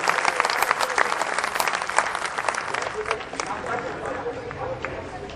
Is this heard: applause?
yes